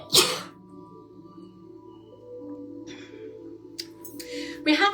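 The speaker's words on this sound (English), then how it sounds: "excuse me, I'm going to sneeze" A single sharp sneeze bursts out loudly at the start in an indoor Pilates mat class, followed by a steady low hum, a faint rustle and another short close burst near the end.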